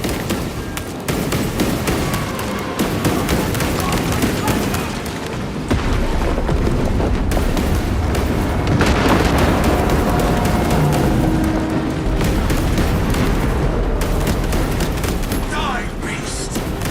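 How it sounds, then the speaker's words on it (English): Explosive charges detonating in the video game Warhammer 40k Space Marine 2, with deep booms and crackling blasts inside dense, continuous battle noise, all loud and close. "Detonate the charges now."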